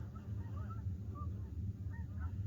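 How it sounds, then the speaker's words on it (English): A flock of wild geese flies south overhead, their honks scattered and distant over a steady low rumble, likely an idling loader or tractor nearby. "Look at the geese, guys. I don't know if you can see them. Bunches of them."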